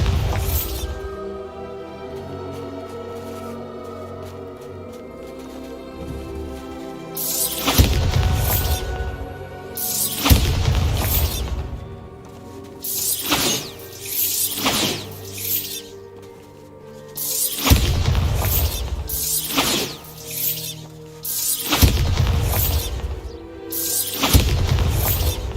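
Bombarda blasting spells go off in the Hogwarts Legacy video game, a series of loud booming explosions with shattering debris that recur irregularly over steady game music.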